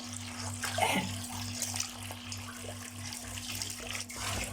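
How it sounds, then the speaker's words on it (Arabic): Tap water runs steadily over fresh sea fish being rinsed before oven grilling, a soft continuous splashing stream over a low electrical hum, fairly quiet and with no talking. "وافتح عليه الميه برضه"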